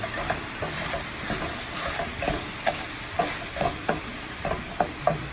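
Ground chicken mixture is stirred in a pot for caldo de pollo molido with coditos, a steady run of soft scraping and wet stirring strokes over a low sizzle, the spoon tapping the pot in irregular beats up close.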